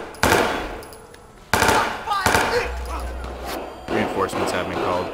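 Bursts of automatic gunfire from the game Watch Dogs 2 erupt in several loud rapid volleys, with someone talking over and between them.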